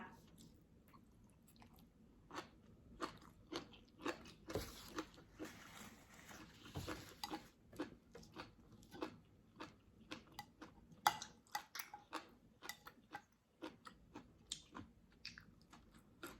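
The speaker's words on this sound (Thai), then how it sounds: "ปลาทับทิมทอดกรอบอร่อยมากข้างนอกกรอบข้างในนุ่ม" Crisp fried tilapia being bitten and chewed up close, a quiet run of crunchy bites and wet chewing clicks in an irregular rhythm over a hushed background.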